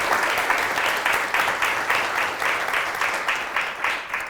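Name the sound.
audience applause for a panel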